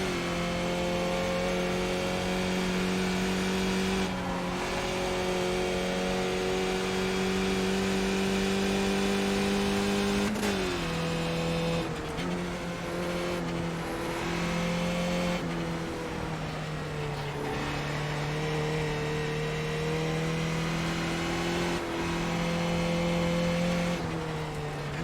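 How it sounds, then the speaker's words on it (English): Race cars in the iRacing sim, Skip Barber cars among them, drone steadily with loud engine harmonics. Repeated gear shifts make the pitch dip and climb, and other cars pass close by. "There's some faster cars approaching."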